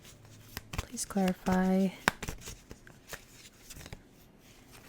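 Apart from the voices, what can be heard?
shuffling a tarot card deck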